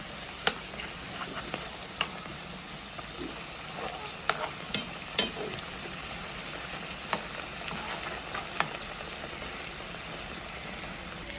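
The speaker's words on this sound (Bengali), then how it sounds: "এক পিঠ ভাজা হয়ে গেছে, এখন অপর পিঠ ভেজে নেব।" Layered chicken patties frying in oil on their second side, a quiet, continuous sizzle dotted with small sharp crackles and pops throughout.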